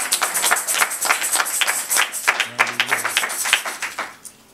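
A church congregation claps along at a lively service, dense rapid hand claps filling the room at steady volume with a brief low tone mid-way, fading at the end.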